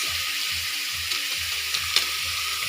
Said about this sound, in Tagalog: Ilagay na natin yung sitaw.